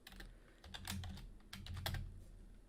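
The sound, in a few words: typing code on a computer keyboard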